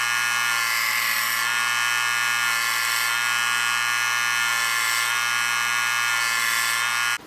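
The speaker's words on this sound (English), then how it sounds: "So we're gonna take this to the grinder. I'm gonna get a blunt edge on this thing so it's good for doing cutoffs." A bench grinder grinds a blunt edge onto a steel cutoff hardy forged from scrap, giving a loud, steady, high-pitched whine that holds unbroken for several seconds with no voices.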